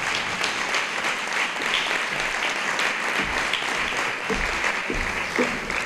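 Sustained applause from an audience at a school's 20th anniversary gala in a Spanish secondary school, dense and continuous clapping filling the hall with no voices over it.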